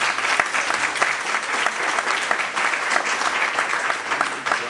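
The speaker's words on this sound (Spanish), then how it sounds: "Yo pido un aplauso para los conferencistas." Sustained applause from a conference audience for the speakers at a forum on mining and the environment, with dense, even clapping that carries on steadily from start to finish.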